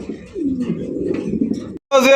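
Pigeons coo close by in a loft, a deep rolling throaty call that continues for over a second, then after a brief gap a sharper, brighter call bursts in.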